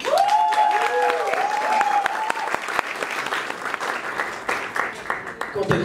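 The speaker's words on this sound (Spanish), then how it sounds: "recibamos con un fuerte aplauso a el invitado sorpresa de hoy día, Fabo Millar." Loud, sustained applause and cheering from a live audience at a comedy roast welcoming a surprise guest, with whoops and a voice rising over the clapping before it begins to thin out.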